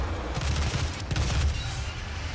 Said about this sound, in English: it's another, like, just strong rapid-fire gun